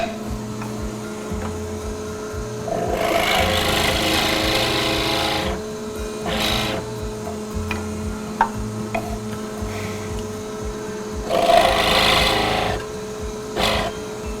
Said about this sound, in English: I'm going to go ahead and countersink this center hole on all of them